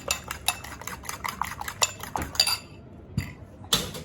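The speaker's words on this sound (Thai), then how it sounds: "ตีไข่ให้ละเอียด" Rapid clinking of a whisk or fork against a bowl while eggs are whisked, in quick, steady bursts, close up, with a brief pause before a few final taps.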